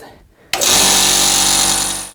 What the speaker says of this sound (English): I'm going to turn this on and see if we can lower the pressure inside our vacuum chamber.